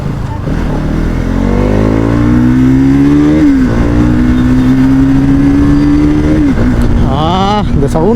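A Honda Dio scooter engine revs up with rising pitch, holds a high steady whine, drops briefly, then revs hard again near a town bus stand. Someone speaks over the engine noise.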